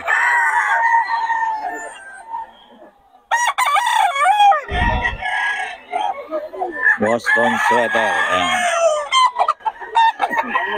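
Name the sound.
chickens and roosters crowing at market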